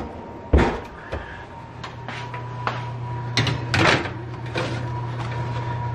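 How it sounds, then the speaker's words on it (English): An oven door opens in a home kitchen with a thud and a clatter, followed by a few more rattling knocks and clicks over a steady low hum from the oven. "Wait, can you open the oven for me"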